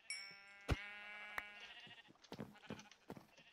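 Sheep bleating in Minecraft on a survival sheep farm, a few short game bleats with clicks and blocky sound effects scattered through a quiet stretch, no talk.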